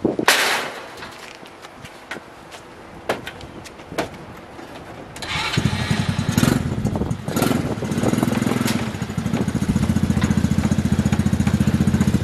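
A mini Jeep starts with scattered clicks and knocks, then its small engine bursts into a loud, buzzing, lawn-mower-like rattle that revs and holds steady as it rolls off a trailer.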